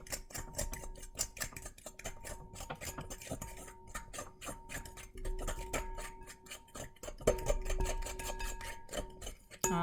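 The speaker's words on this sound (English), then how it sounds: "Start off by beating the egg in the centre and bring your fork around the bowl so that you mix it all up" A fork beats an egg into a thick chocolate mixture in a bowl, giving a fast, close, irregular run of light metallic clicks and scrapes that continues throughout at low volume.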